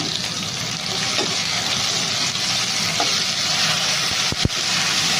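Ginger paste fries with onions in a pan, a steady bright sizzle running throughout with faint stirring scrapes and a couple of sharp clinks near the end, no talk.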